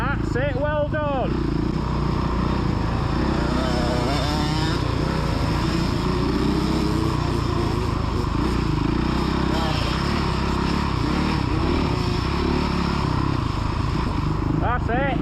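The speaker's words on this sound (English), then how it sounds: "get it revving, keep it moving" A kid's motocross bike engine buzzes and revs continuously on a dirt track, holding a steady high drone with rising pitch sweeps, while a man calls out over it.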